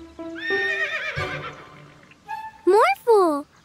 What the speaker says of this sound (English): morph into a horse